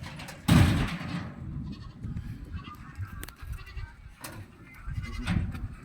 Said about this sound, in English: Hey, this goat is going out.